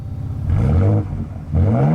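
A Ford Ranger Raptor's EcoBoost engine gives two close, loud revs, each rising sharply in pitch and then falling back, with no talking.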